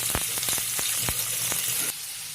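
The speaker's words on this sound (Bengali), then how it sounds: "কড়াতে ঘি দিয়ে পনিরগুলো আগে ভেজে নিচ্ছি" Paneer pieces fry in ghee in a wok, giving a loud, dense, continuous sizzle close up with a few sharp knocks and stirring clatters, then the hiss drops slightly near the end.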